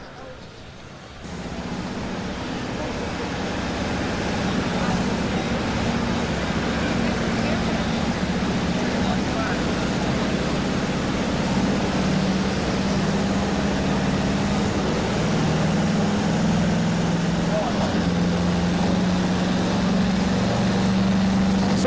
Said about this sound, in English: the distinctive sound of that Massey Ferguson on the line, getting ready to come on